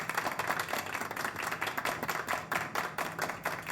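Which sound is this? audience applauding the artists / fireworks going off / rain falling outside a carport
audience applauding the artists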